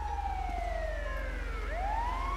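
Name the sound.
ambulance siren approaching in GTA 5 video game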